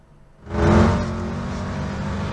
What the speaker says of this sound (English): The single-seater IFS 187 versus the twin-seater off-road Armoury car of number 69 Gilpin Racing